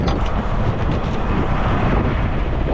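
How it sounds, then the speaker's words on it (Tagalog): Strong wind buffeting a microphone outdoors beside a truck, a loud continuous low rumble with gusty surges throughout and no talking. "yung hangin ang lakas"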